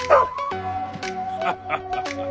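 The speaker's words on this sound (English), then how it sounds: "The dog barked, catching the attention of the drill sergeant." A dog gives a few short, close barks and yips in quick succession over a steady tonal background.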